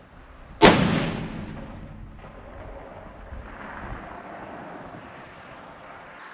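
A single sharp, loud blast from a custom .338 Lapua rifle firing a 250 grain bullet, followed by a long rolling echo that fades into the open-air background.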